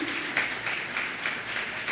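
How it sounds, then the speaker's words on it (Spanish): A brief burst of applause from a forum audience on drug policy for a doctor who has just spoken, a soft, steady patter of many hands with a few distinct claps standing out. "Merecida la ovación."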